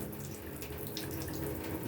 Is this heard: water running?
yes